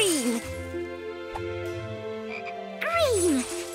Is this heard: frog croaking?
yes